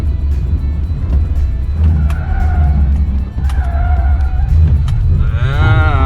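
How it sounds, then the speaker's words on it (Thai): NETA V electric car with 16-inch tyres accelerating hard in sport mode, wheels spinning; a steady loud low rumble of road and motor noise runs throughout with brief higher tyre-squeal tones, and a voice is heard briefly near the end. "แต่โหมดสปอร์ตเนี่ยจังหวะเหยียบคันเร่งปุ๊บพุ่งกว่าเลยฮะ แต่ล้อนี่ฟรีเลย"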